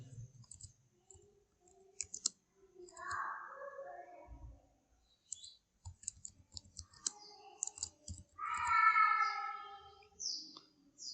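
Sparse keystrokes on a computer keyboard while typing in Google Docs, with short crisp clicks arriving in small irregular bursts separated by quiet gaps, with faint chirpy sounds in between.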